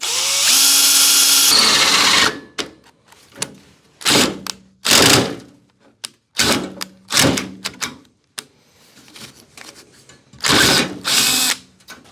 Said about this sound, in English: Probably should have drilled the pilot hole.